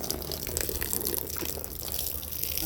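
Detergent and water poured onto a carpet during rug washing make a continuous splashing, gurgling flow of liquid, moderately close, with faint voices in the background.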